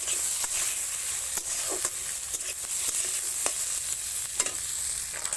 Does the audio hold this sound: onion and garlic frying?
yes